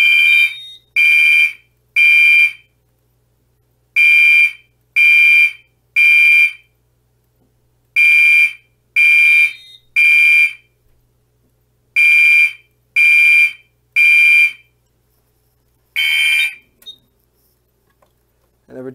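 Older fire alarm horns on a test wall sound from a panel in loud, harsh bursts of three, the sets repeating with short pauses between them before a final burst and a click.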